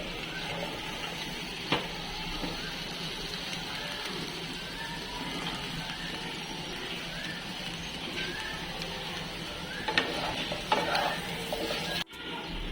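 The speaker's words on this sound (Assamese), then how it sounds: "পটল আলু একেলগে মই ফ্ৰাই কৰি দিম" Pointed gourd and potato fry together in hot oil in a pan, giving a steady, close sizzle with a few faint clinks of stirring throughout.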